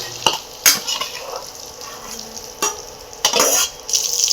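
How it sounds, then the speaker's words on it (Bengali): Lightly fried shrimp are lifted from an oily pan with a utensil, giving sharp metallic clicks and scrapes against the pan over a faint background sizzle. "চিংড়ি মাছটা আমি হালকা করে ভেজে নিয়েছি। এবার এটা আমি তুলে নেব।"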